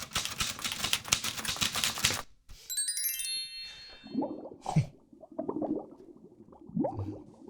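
A typewriter clatters in a fast, steady run of keystrokes, then a bright bell dings at the carriage return, followed by muffled clunks and shuffling; close and loud, with no talking.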